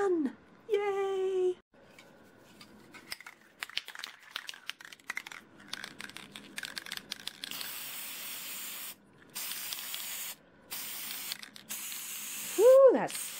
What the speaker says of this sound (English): I'm going to spray over the top of one side and then let it dry